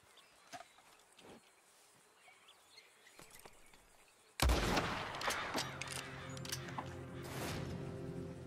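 A gunshot in Red Dead Redemption 2, fired across toward Blackwater from the southern point near Riggs and Bard's Crossing, cracks loudly midway after quiet ambient insect-like sounds, followed by a sustained rumbling tail and scattered sharp echoes.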